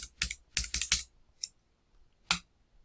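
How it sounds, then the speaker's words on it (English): Control and up-arrow keys tapped on a computer keyboard while working in TinkerCAD: a quick run of several crisp clacks, a faint single tap, then one more distinct keystroke after a pause. "I'll hold down the Control key and tap the up arrow key on the keyboard 10 times"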